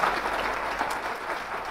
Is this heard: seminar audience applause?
yes